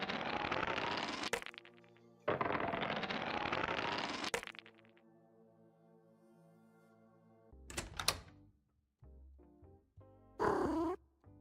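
A cat meowing: two long, loud, harmonic meows, then quieter drawn-out tonal sounds and a couple of short, sharp cries near the end, close and with no talk.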